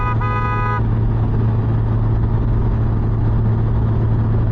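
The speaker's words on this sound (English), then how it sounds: "It's got a real horn." A Honda Gold Wing motorcycle horn gives one loud, short blast at the start, over the steady close rumble of the idling engine, which keeps running alone afterwards.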